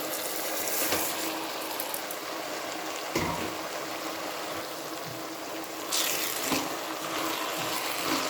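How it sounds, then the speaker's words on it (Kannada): Washed rice tips into a hot pot for veg khushka, hissing and sizzling steadily in oil, with a few louder splashes and scrapes as the grains land and are stirred. "ಈಗ ತೊಳೆದು ಇಟ್ಕೊಂಡಿರೋಂಥ ಅಕ್ಕಿ ಹಾಕ್ತಾಯಿದ್ದೀನಿ."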